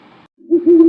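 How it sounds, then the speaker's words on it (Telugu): An owl hoots at night at the edge of a forest: a brief faint rustle, a short silence, then a loud, sustained low hoot that holds steady to the end. "అరణ్యం అంచున రాత్రి చీకట్లో గుడ్లగూబ అరుపు."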